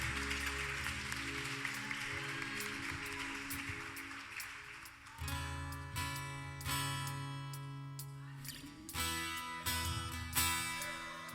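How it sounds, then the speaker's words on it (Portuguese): A church congregation at a Sunday worship service claps for about five seconds, a dense steady patter, before loud instrumental worship music with sustained tones takes over and fills the rest. "Aplauda o nome do Senhor Jesus"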